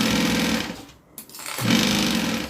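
A sewing machine stitching fabric, running in a steady loud close buzz that stops briefly in the middle and then starts up again, with no voices.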